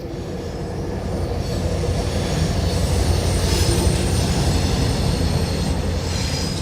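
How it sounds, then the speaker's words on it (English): A northbound passenger train rolls past close by at night, a loud sustained rumble of wheels on rails with faint squealing, steady throughout with no voices. "It's a passenger train, and it's northbound"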